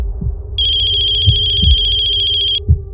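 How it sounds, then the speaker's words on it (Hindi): A phone rings with a rapid electronic trill for about two seconds, loud and close, over a faint low room hum and a few soft thumps. "मम्मी का फोन।"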